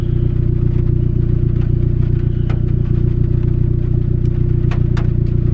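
A turbocharged Honda D16Y7 engine idles at a steady low rumble, loud and close, with faint ticks and clicks above the drone and no voices.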